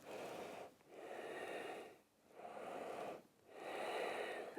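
Quick, audible yoga breathing accompanies an arm-raising movement: close, airy inhales and exhales alternate in about four rapid cycles with short pauses between them.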